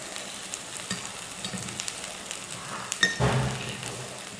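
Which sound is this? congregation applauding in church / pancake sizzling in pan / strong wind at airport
pancake sizzling in pan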